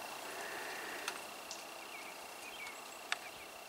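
Birds call faintly in a snowy garden, a few thin chirps and whistles scattered over a quiet, hissy outdoor background, with no talk.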